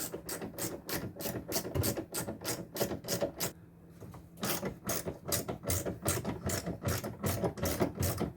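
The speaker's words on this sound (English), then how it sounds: "Now we're going to remove these two bolts on the bracket" A hand ratchet removes bracket bolts on a Ford Escape, giving rapid, evenly spaced clicking in quick bursts with one short pause, close and loud.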